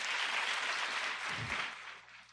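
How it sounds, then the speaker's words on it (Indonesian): A church congregation at a Sunday service applauds in a dense, even wash of clapping that holds steady and then fades toward the end, with a brief low thump partway through. "Berikan tepuk tangan yuk buat Tuhan Yesus yuk."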